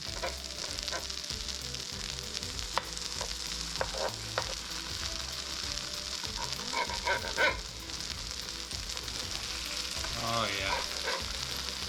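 Leftover mashed potato pancakes fry in a pan with a steady, quiet sizzle and crackle, a few louder pops and spatters, while someone briefly says a couple of words.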